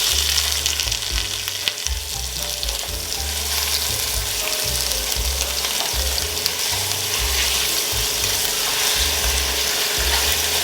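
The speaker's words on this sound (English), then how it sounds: "And now we're just gonna sear on the other side." Soup dumpling filling meat searing in a pot, a loud continuous sizzle and crackle with a low rumbling undertone running steadily throughout.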